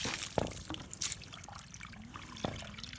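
Water runs and splashes from a 375-watt electric water pump's outflow, a steady trickling flow with occasional louder gushes and drips, close by and without talk.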